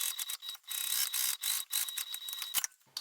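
A sewing machine stitches a fabric tag in place before bias binding goes on, running in bursts of fast mechanical clatter with brief pauses, close and fairly loud with no talking.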